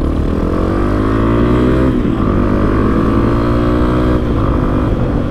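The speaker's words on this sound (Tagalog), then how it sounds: "Ganda pala ng tunog ng exhaust." A scooter's exhaust drones loudly while riding, its strong, steady engine tone shifting pitch slightly as the throttle changes, close and continuous with no talking.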